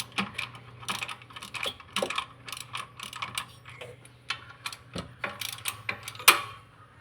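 A 12 mm spanner works the tensioner bolts loose on a Maruti Suzuki Omni engine, giving irregular metallic clicks, ratcheting ticks and clanks close up, with short pauses between bursts and a faint steady hum underneath.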